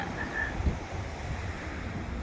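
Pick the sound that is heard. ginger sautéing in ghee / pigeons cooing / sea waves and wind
sea waves and wind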